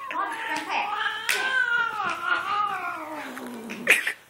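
A furious house cat lets out one drawn-out, wavering yowl that bends up and down in pitch for several seconds, loud and near, ending in a sharp upward squeal.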